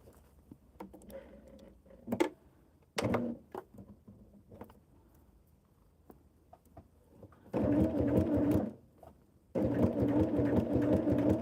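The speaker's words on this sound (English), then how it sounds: "let's sew this one, and we'll be half done." A sewing machine stitches a sweatshirt, with short stop-start bursts early on, then two long, steady, loud runs of the motor and needle near the microphone, with no talking.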